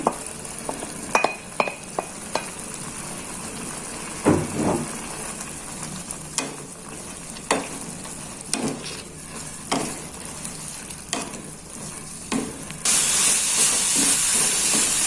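Shredded chicken sizzles steadily in a hot pan while a utensil scrapes and knocks repeatedly, stirring in an irregular rhythm; the hiss swells louder near the end.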